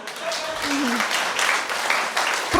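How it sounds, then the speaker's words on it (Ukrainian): A studio audience at an improv tarot-reading show breaks into steady applause, a dense wash of many hands clapping throughout, with a brief voice over it. "А захочете, оплески Ані."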